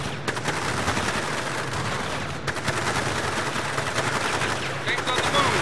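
Cannons firing in the video game Battle Battalions, a rapid string of sharp loud blasts in bursts with a brief pause, under intermittent spoken radio-style voice lines.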